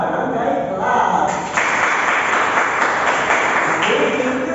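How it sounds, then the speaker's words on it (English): A classroom group of students gives a barangay clap, a patterned group applause, sounding as a steady, fairly loud wash of hand claps that carries through the whole stretch with some voices mixed in. "group two, please let's give them a barangay clap"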